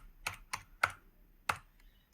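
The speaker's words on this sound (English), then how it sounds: "Actually, let's use the keyboard." Several distinct keystrokes on a computer keyboard used to shut down a Linux machine, four sharp clicks spaced irregularly, close and fairly quiet, with no talking.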